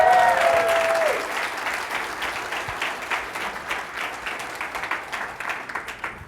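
A conference audience at LibertyCon International 2022 bursts into sustained applause and cheering, a dense wash of many hands clapping that gradually thins toward the end.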